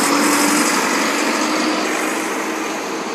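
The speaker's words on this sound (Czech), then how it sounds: "Omlouvám se lidi, teď zase velký nakladák." A loud engine of a large truck or tractor drones steadily nearby, a continuous rough roar that fades slightly toward the end, with no other sounds.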